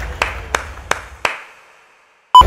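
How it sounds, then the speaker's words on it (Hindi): Four slow, evenly spaced hand claps, fairly close, at a cricket World Cup semifinal in Wankhede Stadium, Mumbai, followed by silence and a brief sharp sound at the very end. "तालियों की गड़गड़ाहट"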